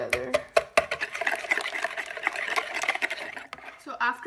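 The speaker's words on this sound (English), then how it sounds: "just whisk everything together" Banana muffin batter being whisked in a bowl, a steady, busy scraping and sloshing that runs continuously at close range with a few sharper taps of the whisk against the bowl.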